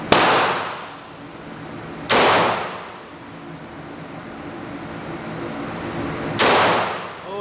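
Three sharp, loud shots from a Walther PPX pistol ring out a few seconds apart at an outdoor target range, each one trailing off in a ringing decay.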